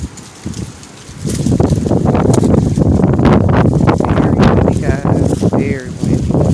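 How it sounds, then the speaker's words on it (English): Wind gusts roar and buffet the microphone close by, with rustling and scattered faint bird calls in the background. "Very windy."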